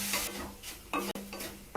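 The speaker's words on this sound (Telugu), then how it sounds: "ఇప్పుడు ఈ ఉసిరికాయ పేస్ట్ని ఇనుప కడాయిలో యాడ్ చేసుకుని బ్రౌన్ కలర్ వచ్చేంత వరకు వేయించుకోవాలి." Thick amla (Indian gooseberry) paste frying in an iron kadai, a soft steady sizzle broken by several scraping stirs, close and fairly quiet, no voices.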